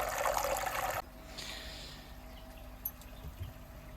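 A small waterfall feature in a home aquarium pours with a bright, rushing splash for about a second, then cuts off abruptly, leaving only a low hum and faint trickles and bubbles.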